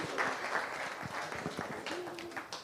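A church congregation applauds, a moderate, uneven patter of hand clapping with some voices mixed in, lasting under three seconds.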